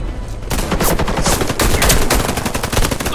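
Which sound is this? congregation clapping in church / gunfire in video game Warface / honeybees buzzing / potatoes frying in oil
gunfire in video game Warface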